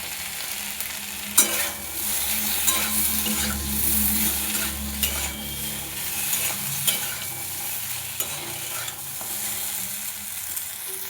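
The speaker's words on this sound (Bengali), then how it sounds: "লবণ দেওয়ার পর 2 মিনিটের মতো কষিয়ে নিয়ে" Drumstick vegetable curry stir-frying in an open pan, a steady sizzle and fry running throughout with occasional sharp clinks and scrapes of a spoon stirring against the pan.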